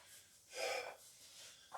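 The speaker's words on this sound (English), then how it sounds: "Gotta get my breathing back, folks." After a heavy raw bench press set, a lifter breathes hard, a loud gasping inhale followed by quieter panting and a short sharp snort, close to the microphone.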